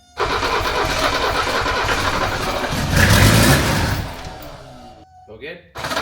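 The starter cranks the engine of a 1978 Mercedes 300CD with a steady loud grinding whir that swells briefly before cutting out, then a few short bursts follow, heard close, with people talking nearby.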